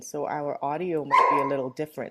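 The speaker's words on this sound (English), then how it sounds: "Oh, and that's my dog." A pet dog barks and yips indoors, short bursts partly buried under a person talking nearby.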